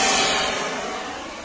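RC jet plane flying outdoors on a cloudy day, a steady broadband turbine-like whoosh that fades slightly as it passes, with no talking.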